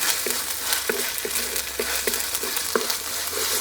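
Onions and ginger-garlic paste fry in a pan for a prawn and ridge gourd curry, giving a steady close sizzle, with a spoon scraping through it about every half second.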